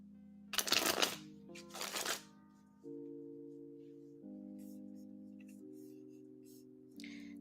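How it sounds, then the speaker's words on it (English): Tarot cards shuffled during a live yes/no reading, two bursts of riffling close by and fairly loud, followed by steady background music. "let me know when you're ready and I will shuffle for you"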